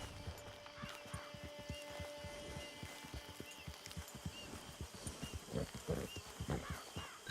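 Horse hooves clop in a quick, steady rhythm in the Red Dead Online video game on PS4, moderately near, swelling toward the end, with faint game ambience and no talk.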